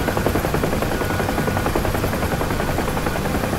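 Steady rotor chop and turbine whine from a UH-1H Huey helicopter flying over Nevada in the DCS flight simulator, loud and continuous throughout with no talk.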